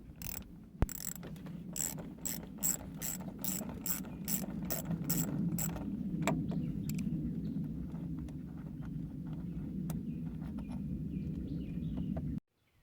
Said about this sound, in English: let's go on ahead and pop this terminal off.